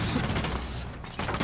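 Rapid video-game gunfire from players shooting at an opponent, a dense continuous volley that fills the short moment and thins briefly near the end, with no clear speech over it.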